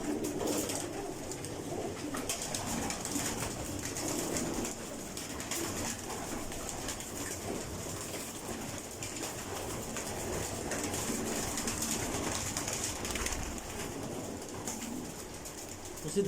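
Breeder pigeons in an indoor loft room in Faisalabad coo steadily and shuffle about, with occasional wing flutters over a constant hiss of room noise.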